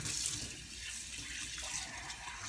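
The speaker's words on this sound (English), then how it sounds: "It does not have to be washed with anything except your hand and water." A stone vessel is washed by hand under a running tap, a steady faint stream of water splashing continuously with no talking.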